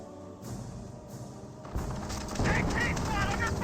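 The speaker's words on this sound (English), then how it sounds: "Going for a strafing run right here." Aircraft strafing run in the Company of Heroes video game, a dense burst of gunfire that swells in after a quieter start and keeps roaring loud to the end, with a voice talking underneath.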